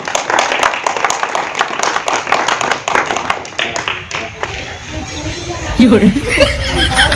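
Audience clapping at a comedy stage show, a dense run of sharp claps for about four seconds over crowd chatter and laughter, then fading as talk continues.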